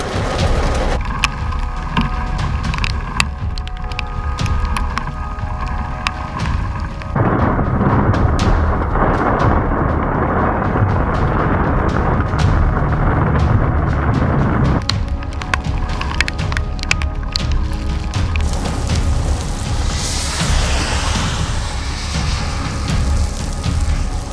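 Thunder from a passing storm rumbles continuously in the open, with low rolling booms and crackling bursts over steady wind and rain noise, no voices present.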